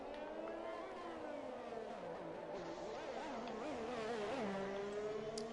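A Formula racing car engine in a video game set on the Singapore street circuit wails continuously, rising and falling through gear changes and corners, a sustained close roar with no talk.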